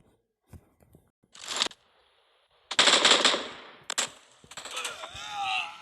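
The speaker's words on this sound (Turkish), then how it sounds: "Ya bu sefer de M249'la geldi." An M249 machine gun fires in a first-person shooter game, with several loud, rapid bursts separated by short pauses and later a longer stretch of automatic fire.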